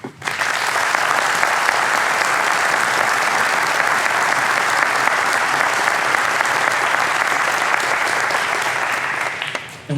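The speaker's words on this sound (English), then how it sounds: "a round of applause in his memory" A large audience applauds in memory of LC Coney, the dense clapping starting abruptly, holding steady and loud for about nine seconds, then fading out near the end.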